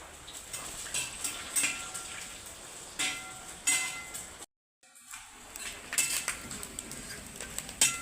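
Soft sizzling of frying food with occasional metallic clinks of a utensil against a pan, briefly cutting out midway.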